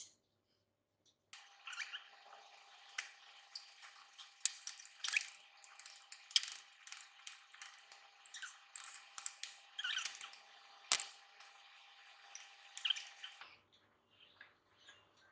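Repeated quiet snips of scissors cutting sticky, still-warm kueh kaswi, with soft squishy clicks in an irregular rhythm, close up.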